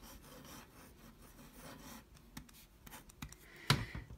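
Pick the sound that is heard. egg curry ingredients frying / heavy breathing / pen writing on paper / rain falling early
pen writing on paper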